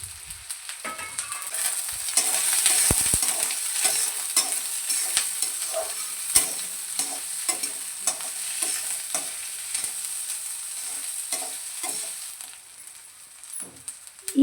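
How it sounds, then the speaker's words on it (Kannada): Chopped onion and garlic frying in hot oil in a pan, a steady bright sizzle with scraping stirs and occasional clinks of the utensil against the pan, close up and without talk. "ಎಣ್ಣೆ ಕಾದ್ಮೇಲೆ ಕಟ್ ಮಾಡ್ಕೊಂಡಿರೋಂಥ ಈರುಳ್ಳಿ, ಬೆಳ್ಳುಳ್ಳಿ ಹಾಕಿ ಚೆನ್ನಾಗಿ ಬಾಡಿಸ್ಕೊಳ್ಳೋಣ ಕಲರ್ ಚೇಂಜ್ ಆಗೋವರೆಗೂ."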